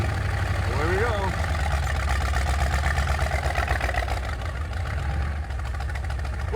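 The Munsters Drag-U-La coffin car, fitted with ten carburetors, idles loudly and steadily with a lumpy, rumbling beat throughout, heard up close with no talk over it.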